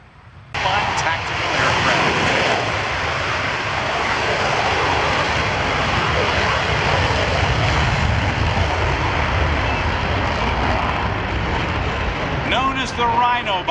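A Navy Super Hornet roars past at an airshow with afterburners lit, a loud continuous broadband jet rumble sustained throughout, with an announcer speaking over it.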